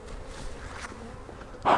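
Honey bees at a strong hive give off a low, steady buzzing hum, faint and continuous, with a brief louder burst of noise near the end.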